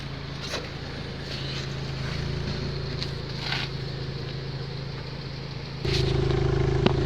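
A 2013 Kia Soul engine idles steadily at its exhaust, a low continuous hum and rumble with a few clicks and rattles on top, becoming louder and fuller near the end as the engine revs up.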